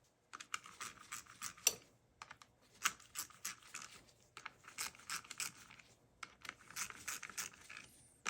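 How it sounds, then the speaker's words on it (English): A 10 mm ratchet tightens the clutch cover bolts on a Honda XR200 motorcycle in a crisscross pattern, giving repeated bursts of quick, close ratcheting clicks separated by short pauses, with no talking. "just gonna go around on those with my 10 millimeter and just kind of do it in a crisscross fashion"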